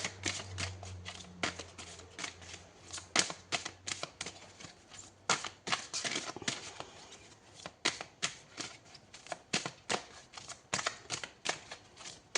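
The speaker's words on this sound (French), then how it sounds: "Alors, on va prendre une deuxième carte." Tarot cards being shuffled and drawn, a long run of close, crisp card snaps and riffles with quick irregular clicks and flicks, fairly quiet, with no voice over it.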